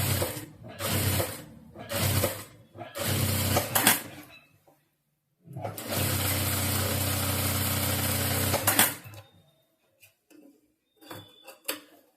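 Sewing machine stitching a lined saree blouse, running in several close bursts of steady whirring and rapid needle clatter, the longest run lasting about three seconds before stopping, with brief quiet gaps between runs.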